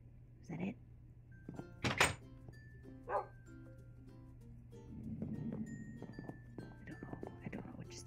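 A dog barks in the Minecraft video game, a few scattered barks mixed with dull thunks and other quiet in-game noises over a low background hum.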